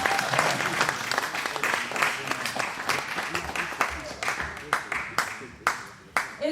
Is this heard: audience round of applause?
yes